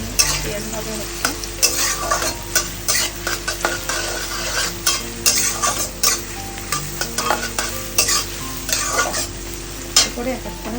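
Onions sizzle in hot oil while being stirred in a pan for a Bengali home-style tadka, with constant crackling and frequent rhythmic scrapes and taps of a spoon against the metal, close and fairly loud.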